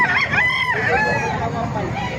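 A rooster crows close by at a poultry gathering in Calumpit, Bulacan, a long, ringing cock-a-doodle-doo that rises and falls, with steady background noise throughout.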